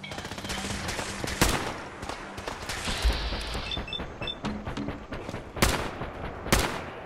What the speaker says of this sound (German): Wir werden erstmal die komplette Munition leer ballern.